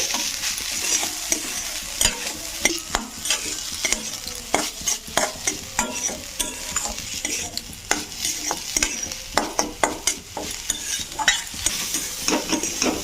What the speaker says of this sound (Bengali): এবার ঘিয়ের সঙ্গে হালকা করে নারকেলটাকে ভেজে নেবো একটু